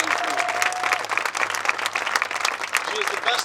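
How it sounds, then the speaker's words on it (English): Applause rolls through the audience at an 8th grade graduation, a steady, dense wash of clapping throughout, with a faint voice near the start. "can we give a huge round of applause to Marlene Coleman"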